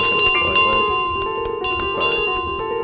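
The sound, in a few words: goose's bell ringing in Untitled Goose Game video game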